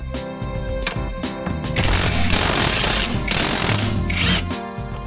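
A power tool fitted with a 14mm socket hammers at the lower rear shock absorber bolt of a Honda Jazz GK5, producing loud, close, rapid rattling bursts that swell in the middle and ease off at the end.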